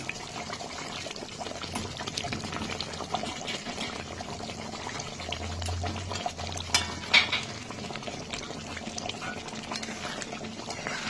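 Katla fish kaliya curry gravy bubbling in a pan, a continuous close, steady simmer with dense popping and fizzing throughout.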